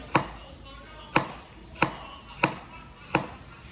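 A knife strikes a cutting board five times at a slow, fairly even pace while garlic is minced, each chop a sharp close click with quiet gaps between.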